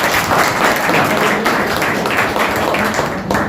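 Loud, dense applause from a group of students, many hands clapping together in a continuous close wash of sound that tapers slightly near the end.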